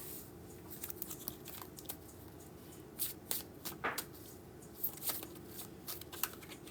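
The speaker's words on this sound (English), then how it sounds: "As I spill cards all over the table" Tarot cards are spilled across a table and shuffled, giving quiet close riffling and soft flicking bursts in irregular clusters, with faint handling noise between and no talk.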